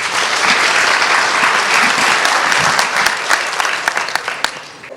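Sustained applause from the audience at a Canada-Pakistan Business Council anniversary gala, dense and steady throughout, thinning into scattered individual claps near the end.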